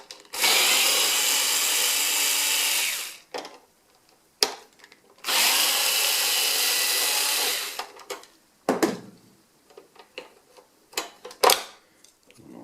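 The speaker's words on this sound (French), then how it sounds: "On va dévisser ensuite le cache pour le lens shift." A power screwdriver whirs in two long steady bursts and a few short ones while unscrewing the lens shift cover on a BenQ W2000 projector during a teardown, with small clicks and handling noises between.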